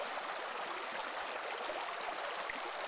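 Small mountain brooks and rivulets run through lush alpine meadows in a nature park, giving a steady, close, even rush of flowing water with no voices.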